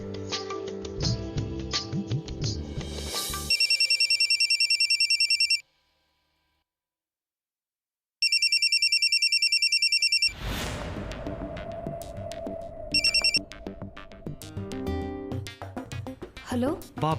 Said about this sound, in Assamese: এটা ফোনকে কৰোঁ গুণগুণলৈ